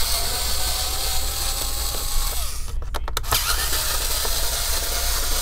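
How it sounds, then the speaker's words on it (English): Electric screwdriver backing Phillips screws out of the back cover of an Asus TUF F15 laptop, a steady ratcheting mechanical whir with a short burst of sharp clicks midway, close and continuous with no talking. "I'll be using an electric screwdriver here in this video demonstration. Let me go ahead and start unscrew the back cover."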